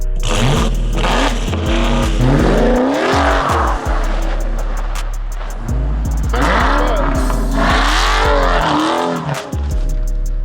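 Dodge Hellcat widebody driven hard in snow, its engine revving loudly and repeatedly with sweeping rises and falls, exhaust pops and crackles between pulls, and brief tire squeal, all close and sustained.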